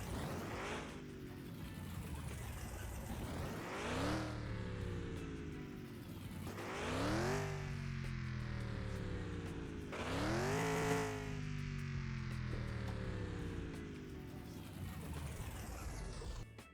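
A muscle car engine in a video game revs repeatedly in three or four rising surges, each climbing in pitch then dropping back to a throaty idle.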